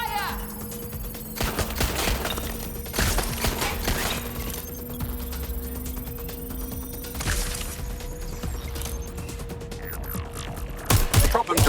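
Gunfire in the video game Watch Dogs: Legion comes in repeated sharp bursts over a steady electronic hum, with a spoken voice over parts of it.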